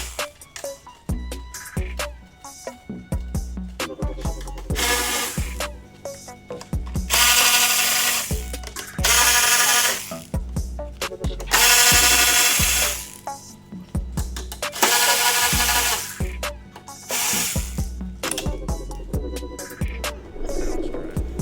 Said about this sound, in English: If you have an electric ratchet, use an electric ratchet.